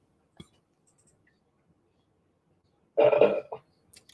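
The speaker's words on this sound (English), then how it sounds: "That was disgusting of me to burp right now." A single short, throaty burp sounds close to the microphone in a quiet room, preceded by a faint click and followed by near silence.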